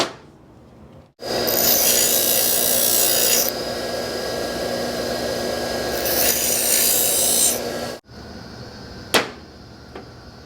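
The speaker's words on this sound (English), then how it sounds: "I'm going to grind some of this off." Metal is ground off a part from a 1962 Cadillac with a faulty Jetaway transmission, a loud, harsh, continuous grind lasting about seven seconds, followed by quiet and a single sharp click.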